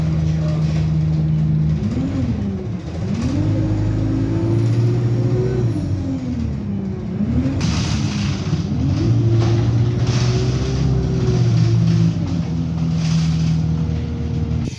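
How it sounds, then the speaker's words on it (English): A number 73 bus pulls up at a stop, its engine droning loud and close with shifting tones and hissing air brakes, running continuously throughout. "So here's my bus, the 73, which goes to Maldon."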